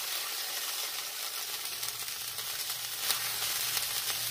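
Corn tortillas sizzle steadily in leftover birria grease, a continuous close, even frying hiss with a few brief louder crackles and no talking.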